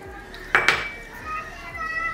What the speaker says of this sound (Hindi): और इसको अच्छी तरह से मिक्स करेंगे।